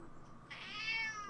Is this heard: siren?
no